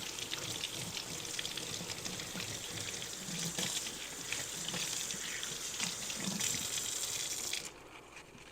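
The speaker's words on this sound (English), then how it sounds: "Just rinse real quick." Kitchen tap water runs in a steady, close gush while something is rinsed under it, then the flow cuts off abruptly near the end.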